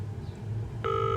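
Ringback tone of an outgoing call placed in a Nancy Drew detective video game, a steady electronic dual-tone burst starting near the end, over a low background hum.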